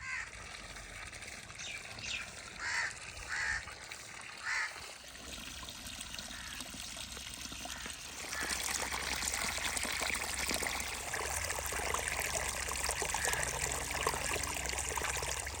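Irrigation water flows steadily into a chili field in a Pakistani village, a continuous near trickle and rush that grows louder partway through, with faint honking birds and other outdoor sounds behind it.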